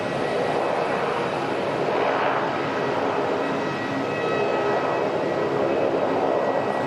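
An aircraft at Auckland Airport bound for Blenheim gives a continuous engine drone, fairly loud and steady, swelling slightly midway, with no voices.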